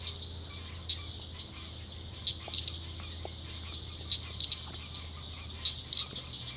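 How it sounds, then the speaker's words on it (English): Frogs calling at sunset: short, bright chirps repeat in small clusters every second or two over a steady evening hum, moderately close and alone without talk. "Are the froggies waking up or what?"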